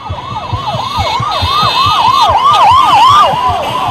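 An ambulance siren on an emergency heart transport from Bangalore to Chennai wails in fast, repeating up-and-down sweeps, loud and close, with a second higher siren joining over traffic rumble.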